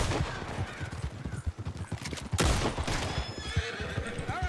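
A horse neighs loudly near a horse-drawn cart in the western game RedM, with hooves clopping and a loud gunshot-like burst midway, as the cart's rattle and hoofbeats continue.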